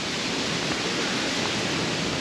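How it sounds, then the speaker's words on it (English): Strawberry Bay Falls pours onto the rocks at its base on Third Beach along the wild Olympic coast, a dense, constant roaring rush that stays loud and close throughout with no voices. "This is the first time I think I've made it to the base of the waterfall."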